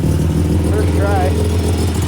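A fuel-injected Mazda RX7 12A rotary engine on a freshly finished build runs steadily just after its first start, a continuous low droning idle with people talking over it.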